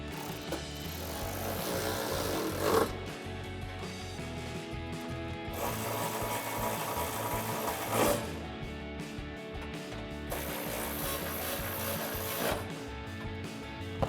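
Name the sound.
ratchet with extension and 13mm socket tightening bolts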